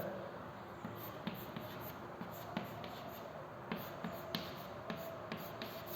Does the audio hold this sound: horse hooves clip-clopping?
no